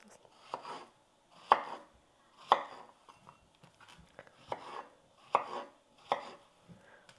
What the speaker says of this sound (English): Okay, so now we're going to cut them.